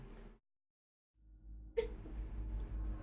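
A single sharp sneeze bursts out partway through, loud and close, after a stretch of silence, with low background game audio continuing around it.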